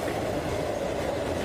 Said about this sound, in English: The D train is once again running at the 182nd and 183rd Street subway station